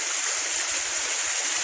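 A waterfall roars as a loud, constant broadband rush of falling water, heard close and unbroken with no voices over it.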